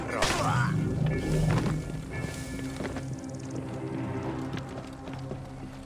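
Horse hooves clip-clop at a run in a video game, a dense rhythmic patter over game music and impact noises, with occasional talking underneath.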